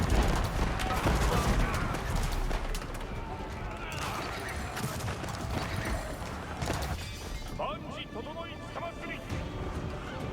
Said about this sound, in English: it looks like these forces will be cleaned up by this volley